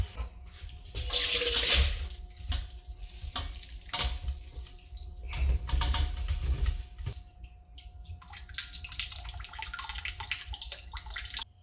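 Liquid fat drains off cooked ground beef for homemade chili, a splashing, gurgling pour with running water and drips that swells and eases over several seconds, close up with no talk.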